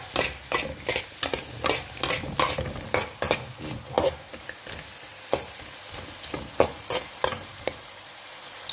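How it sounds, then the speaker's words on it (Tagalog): Food is stirred in a sizzling pan after fish sauce and a little soy sauce go in, with rhythmic utensil scrapes and taps repeating steadily over a constant frying hiss and no voices. "Konting toyo. Yan, konting-konti lang. Haluin mo na natin."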